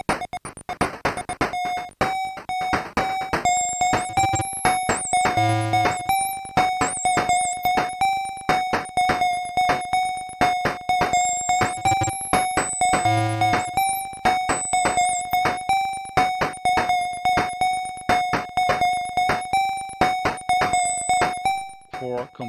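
Music from the DOS game Gods played through Tandy sound via TNDY.com port redirection, a harsh, beeping chiptune of rapid repeating square-wave notes that sounds garbled and cacophonous, loud and continuous throughout.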